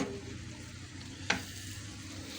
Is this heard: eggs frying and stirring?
yes